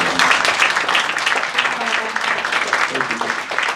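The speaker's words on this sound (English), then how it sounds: "let's give a big round of applause for Eric and Shiori." Applause from the audience at a press conference for the documentary Black Box Diaries, a dense, steady patter of many hands filling the room, with faint voices mixed underneath.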